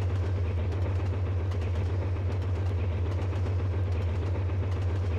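Steady rumble of a simulated train running on rails at speed over flat ground in Trainz, with a continuous low engine drone and faint repeating clicks of wheels on track joints throughout, no talk.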